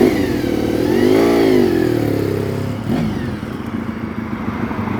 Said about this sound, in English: Ah, that V4 sound.